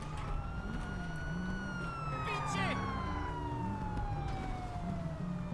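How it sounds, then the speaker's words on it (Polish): A police siren wails in the GTA V video game, its long tone sliding slowly downward across the clip, steady and fairly loud over a rumbling low engine and game background noise. "Znowu słyszę, że gdzieś tutaj jedzie policja."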